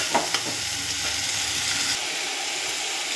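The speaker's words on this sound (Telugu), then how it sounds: "ఇప్పుడు బీరకాయ ముక్కలు వేసాను ఇది అంతా కలిపేట్టు కలిపేయాలి" Ridge gourd, tomato and onion pieces being stirred in a hot frying pan: a steady close sizzle with a couple of sharp scrapes of the spoon near the start, continuing without any voice.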